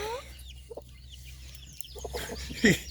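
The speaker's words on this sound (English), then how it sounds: "It's a chicken." A mother hen out with her chicks clucks softly a few times, then gives one louder, sharper cluck near the end, close by over faint background noise.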